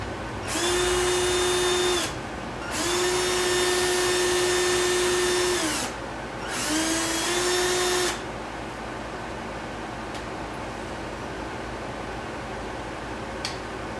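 A power drill whines through three separate bursts, each spinning up, holding a steady pitch and winding down, during repair of a 4x4 actuator valve on a 1990 Jeep Wrangler; a quiet background hum follows the last burst.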